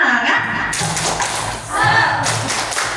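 A group of teachers doing a rhythmic Indonesian spirit clap, with patterned bursts of hand claps and taps sounding close and fairly loud and steady throughout.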